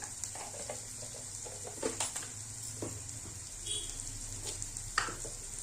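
Fish sizzling steadily in hot oil with chili powder and turmeric powder, a loud continuous fry with occasional stirring scrapes close by, no talk.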